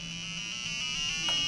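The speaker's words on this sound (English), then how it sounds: "So if I go to the buzzer," A steady, high-pitched electronic buzzer tone from a BrainPad board holds continuously, close and even, with a faint click near the end.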